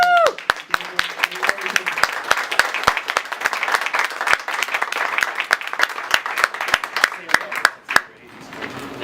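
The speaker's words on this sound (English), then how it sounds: "one more round of applause." A convention audience at Power Con 2013 applauds, with dense, sharp clapping running steadily for about eight seconds before it tapers off and a voice begins.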